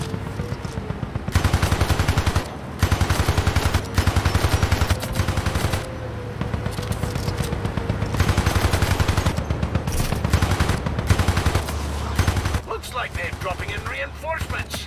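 Rapid bursts of automatic gunfire rattle in a Hypercharge: UnBoxed co-op multiplayer match, loud and repeated across the whole stretch with brief gaps, mixed with other game sounds and some voice.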